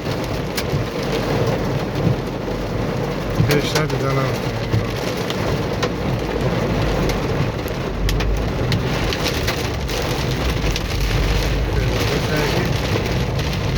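Heavy rain pours steadily over Dushanbe city streets with a dense, constant hiss and occasional low rumbles, while a person talks briefly over the downpour.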